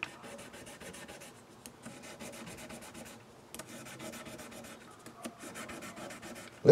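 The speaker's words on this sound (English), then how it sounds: "Little 1000 grit sandpaper and my fret guard. Just gonna take top layer of dirt, corrosion, shines them up really nice." Fine 1000 grit sandpaper rubs back and forth over the metal frets of a Sterling Cutlass guitar fitted with a fret guard, a steady close scratchy rasp with short pauses and no talking.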